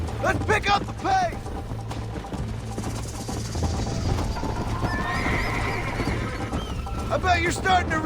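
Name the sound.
horse galloping in video game Red Dead Redemption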